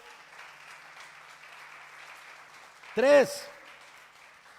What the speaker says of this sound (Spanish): Dale un fuerte aplauso a Dios por ello.